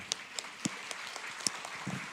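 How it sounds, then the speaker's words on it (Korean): A church congregation at a baptism and confirmation service applauds with scattered, fairly faint claps, sparse and uneven, heard from a distance. "박수하겠습니다."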